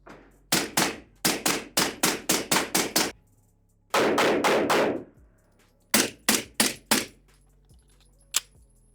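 An unsuppressed gun fires loudly in rapid bursts, one run of about nine cracking shots, a blurred burst and a final group of five, each shot sharp and close with quiet gaps between.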